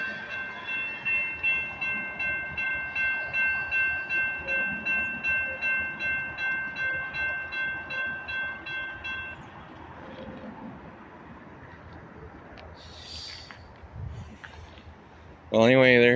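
A complete freight train rolls past with a rhythmic clatter of wagons over the rails and a ringing tone above it, then fades to a quieter rumble before a sudden loud horn honk at the end.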